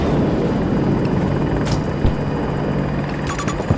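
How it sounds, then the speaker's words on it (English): A helicopter flies in the video game Battlefield 2042 during a large Conquest battle, its rotor producing a steady, loud broadband roar throughout, with a few faint distant impacts mixed in. "Chopper spotted."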